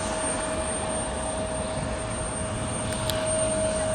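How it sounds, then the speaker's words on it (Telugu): An American Eagle airliner taking off at Raleigh-Durham International Airport, North Carolina, heard as a steady, unbroken jet roar with a faint whining tone held throughout, moderately loud and without talk. "సెకండ్ ఈగల్ ఫ్లైట్ వెళ్తుందండి"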